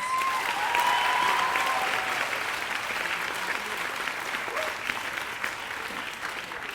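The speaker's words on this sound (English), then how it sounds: "Can you please give them a round of applause?" An audience at a 2022 arts school commencement ceremony gives sustained, even applause that fills the hall, with a faint voice briefly audible early on.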